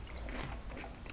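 A crisp, crunchy fermented tomato pickle being bitten and chewed: quiet, close crunching bites that come in a short, uneven burst with no talk.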